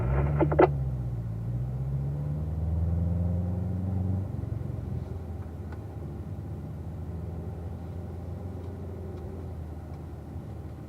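A car engine running at steady low revs while driving a warm-up lap in single file, with a deep, even rumble and a slight pitch drift early on, close and continuous, no talk.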